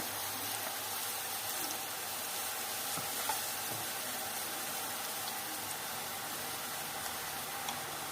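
Boondi batter is pressed through a perforated ladle into hot oil for kara boondi, making a faint, even, continuous sizzle with a few soft ticks and no voices.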